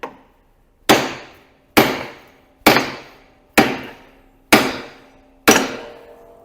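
Seven sharp, evenly spaced hammer blows ring against a Massey Ferguson tractor's front axle kingpin, each clang decaying quickly before the next, with no talking.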